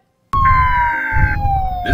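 A loud siren wails in a long, steady tone that slowly falls in pitch, attributed to the Siren Head creature.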